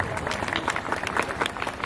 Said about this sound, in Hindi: एक बार सबके सम्मान में आपकी तालियां आनी चाहिए